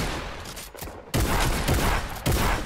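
Rapid bursts of gunfire from the video game Fortnite, loud and close, with dense volleys that cut out briefly and then resume in a heavy spray.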